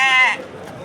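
A lamb at a livestock market in Chinoz gives one short, close bleat lasting about a third of a second, followed by quieter market background.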